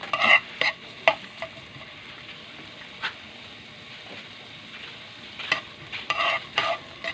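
Chopped onion and garlic going into hot oil in a home kitchen, giving a low sizzle under repeated bursts of spoon scraping and stirring against the pan, close and moderately loud, with no talking.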